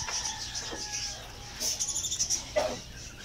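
Parakeets, including yellow and pied birds, in a backyard aviary give a few faint, scattered chirps and tweets, some sharper calls near the end, over a quiet background.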